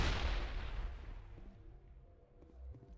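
A grenade blast in the sci-fi shooter Mass Effect: a heavy booming burst at the start that rolls off into a fading rumble, followed by quieter game noise with no talk.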